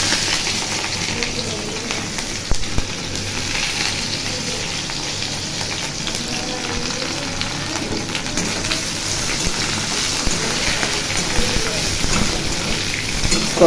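Onion and nigella seeds frying in hot oil in a thin, worn wok, a steady close sizzle and crackle running the whole time with occasional stirring scrapes.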